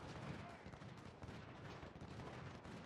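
Skirmisher gunfire aimed at artillery in the Ultimate General: Civil War video game, a dense, continuous rattle of musket shots and distant booms, fairly quiet, with faint voices mixed in.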